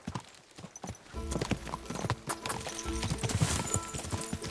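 Horse hooves clip-clopping at a gallop in the medieval video game Kingdom Come: Deliverance 2, a quick irregular drumming of hoofbeats that starts faintly and gets busier, with a brief whinny-like sound and scattered other noises.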